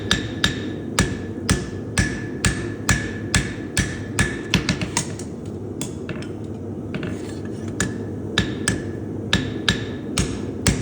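Steady, ringing metallic hammer blows strike a cold horseshoe on the horn of an anvil, evenly paced with a brief flurry of quicker taps midway.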